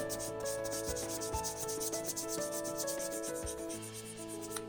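Steady, continuous rubbing of 1000-grit sandpaper against a sneaker's leather toe, a soft, even scratchy hiss with slight back-and-forth strokes, close up and alone.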